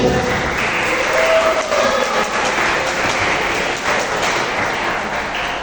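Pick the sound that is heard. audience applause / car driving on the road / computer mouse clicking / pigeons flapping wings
audience applause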